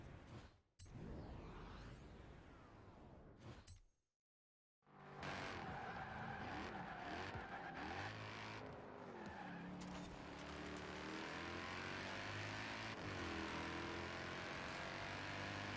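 Racing car in Forza braking hard into a corner, tires squealing and skidding loudly over a roaring engine, after a brief gap of near silence; the screech and engine drone continue steadily to the end.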